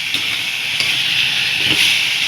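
Tomatoes hiss and sizzle steadily as they go into a hot pan for tomato soup, a loud continuous frying crackle up close.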